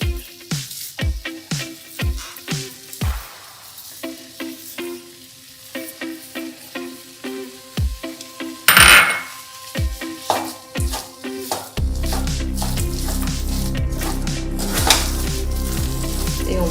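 Jaggery added to a pan of amla mixture on low heat and stirred, with repeated metal spoon knocks and scrapes against the pan and a soft sizzle that becomes a dense, steady fry toward the end.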